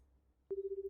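A phone starts ringing in a visual novel game, a single steady electronic tone pulsing rapidly after a brief quiet lead-in, clear and close.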